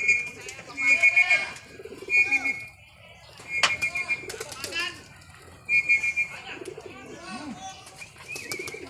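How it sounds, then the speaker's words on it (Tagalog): Pigeons coo in bursts of soft throaty calls, with sharp whistles and brief wing flaps, while people talk excitedly nearby. "Ayan mga kalapatids, pasok na ibon."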